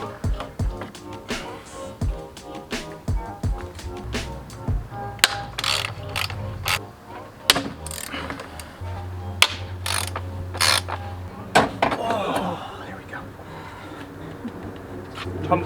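Hand ratchet loosening and removing bolts from the stock tumbler generator valve on a 2015-or-later Subaru WRX, steady quick clicking strokes in bursts with pauses, close and clear, no talk.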